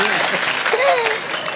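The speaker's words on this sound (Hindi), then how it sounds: "एक बार तालियां बजाओ।" Crowd at a Nimar Utsav cultural performance in Maheshwar claps in loud, continuous applause, with voices rising over the clapping partway through.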